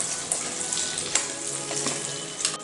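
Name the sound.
chillies mixed into fried onions in a pan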